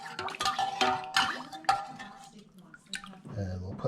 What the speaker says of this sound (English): I'm just going to give it a little rinse here.